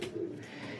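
A pigeon gives a short, soft coo at close range. It is a single brief low call, faint and heard alone.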